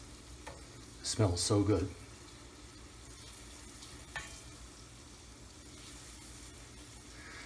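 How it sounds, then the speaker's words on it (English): Butter sautéing in a pan while being stirred, a soft steady sizzle with a couple of brief louder scraping bursts, and a voice speaking briefly over it. "Stir that around while it sautés."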